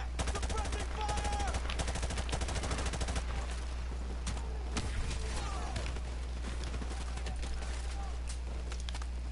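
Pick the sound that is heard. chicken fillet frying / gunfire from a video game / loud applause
gunfire from a video game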